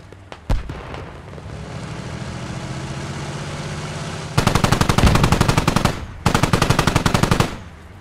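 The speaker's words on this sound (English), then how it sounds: "Keep shooting." Automatic gunfire in the tactical shooter Squad during a T72B3 tank rush on the Papanov map: a single loud shot, then a sustained rumble, then two long, rapid bursts of machine-gun fire, close and loud with no talking.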